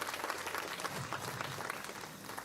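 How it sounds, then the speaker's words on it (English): Crowd at an outdoor freedom rally breaks into applause, dense overlapping clapping sustained throughout at a fairly distant, modest level. "Yeah, that definitely deserves a round of applause,"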